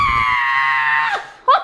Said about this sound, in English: And I love to scream!